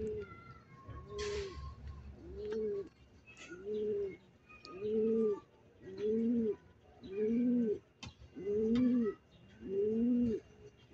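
Racing pigeons coo in a steady series of low, throaty calls, about eight repeated phrases at an even rhythm, with faint chirps and rustling in the background.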